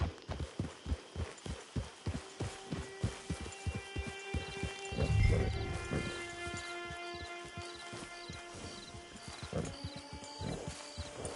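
Horse hooves in Red Dead Redemption 2 clop in a steady, rhythmic gallop close by, with a low rumble midway and musical tones layered over the hoofbeats.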